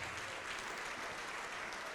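A church congregation applauding, a dense, continuous wash of clapping from many hands, steady and moderately distant, with no voices standing out.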